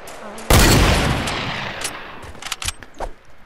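Rapid bursts of gunfire in the Fortnite video game, a loud crack followed by a sustained rattling volley that tapers off into scattered, fainter shots.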